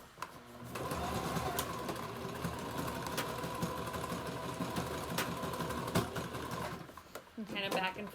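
A sewing machine stitches a nose piece into a homemade fabric face mask, a steady fast mechanical whirr running for several seconds before stopping, followed by a short spoken voice.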